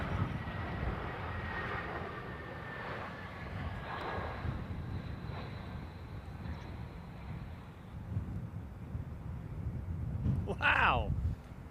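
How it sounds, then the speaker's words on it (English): Aircraft engine roar at London Heathrow Airport as a plane makes bounced landings, a steady broad rumble with wind noise throughout, swelling louder near the end, while voices talk over it. "That's 3 sort of like bounced landings"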